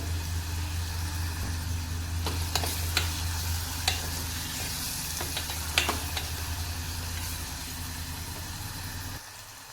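Onions sauté in a pan with a steady soft sizzle and occasional stirring clinks, faint and close, with no talking.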